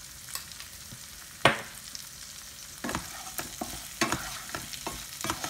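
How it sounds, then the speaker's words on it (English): A spatula stirs an oats mixture frying in a pan, making scraping and clattering strokes at an irregular rhythm over a soft, steady sizzle, close and with no voices. "Mix it nicely."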